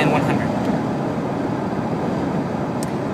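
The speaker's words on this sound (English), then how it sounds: "I think I have to talk loud now because of the wind and the car, and it's really loud." Car driving fast on a straightaway at around 100, with loud steady wind roar and road noise filling the cabin throughout; a voice talks over it.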